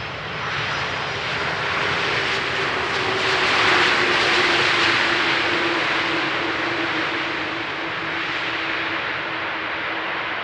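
An airliner landing on runway 18R at Amsterdam Schiphol Airport, a loud steady jet engine roar with a sustained droning tone that swells in the middle and holds, heard alone without talk.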